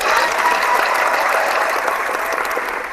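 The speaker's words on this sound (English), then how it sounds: "Let's give you a round of applause for coming in the room" Steady applause from a studio audience on a boxing talk show, a dense, even patter of clapping that holds at full volume throughout with no voices over it.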